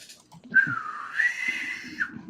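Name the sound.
person attempting to whistle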